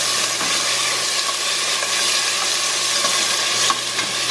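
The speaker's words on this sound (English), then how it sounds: "pretty much smoking hot. I'm going to go ahead and add in the pork." Boneless pork sizzles and fries in a smoking hot pan, a loud, steady close-up crackle and hiss with light stirring, no talking.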